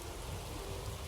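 Steady rainfall in The Witcher 3 hisses as a dense, even patter, a brief continuous wash of falling rain without any voices.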